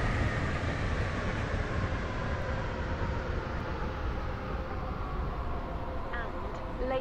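A train running in the Roblox game SCR, a steady low rumble and rolling drone throughout, with faint tonal whines near the end.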